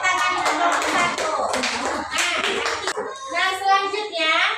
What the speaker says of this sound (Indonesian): ada tepuk tangan untuk kelompok satu